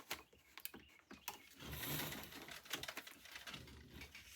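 A sewing machine stitches a fabric pocket shut, giving quiet, rapid mechanical whirring and clicking in short uneven bursts with a steadier run in the middle, faint and close with no talk.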